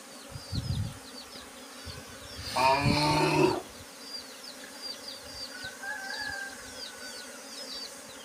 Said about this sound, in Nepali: अस्ति भर्खरै घर बनाएको आजै मौरी आयो